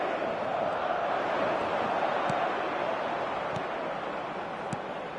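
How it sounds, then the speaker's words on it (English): Football match crowd calling out in a stadium, a broad, steady wash of massed voices heard from a distance, faint and continuous with no single voice standing out. "The crowd are calling for this to be put to bed."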